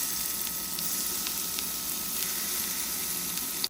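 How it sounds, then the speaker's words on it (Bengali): Marinated fish fries in hot oil in a frying pan, a loud, steady crackling sizzle with faint occasional pops, cutting off abruptly at the end. "তেল গরম হলে এই মেখে রাখা মাছগুলো একে একে দিয়ে দিচ্ছি"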